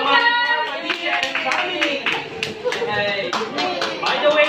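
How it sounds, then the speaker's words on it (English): Hands clap in a round of applause for a travel and tours business owner at a Filipino community gathering in the UAE, with lively voices talking loudly over the clapping throughout. "give her a round of applause"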